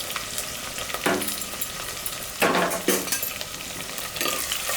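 Chopped onions sizzling in hot oil in a pan for a fish curry, a steady frying hiss with several scraping stirs of a spoon in uneven bursts, close up and without talk.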